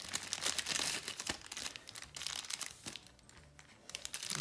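Wrapping paper crinkles and rustles up close in irregular bursts, with brief tearing crackles as an advent calendar package is handled and opened.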